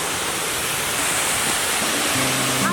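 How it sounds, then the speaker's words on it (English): A waterfall near a remote hiking trail in Tequila, Mexico roars as a steady, dense wash of falling water, loud and close with no pauses. "I can hear the waterfall now."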